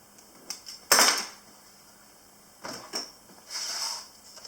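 A sharp knife trimming the edge of a pie crust, a few scattered light clicks and scraping taps against a dish, close and quiet, with pauses between the cuts.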